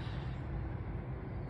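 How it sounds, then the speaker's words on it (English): Steady low rumble of traffic on a nearby main road, a constant broadband wash with no distinct passes, fairly quiet and unbroken. "You have to excuse the audio on this one because we're right next to the main road."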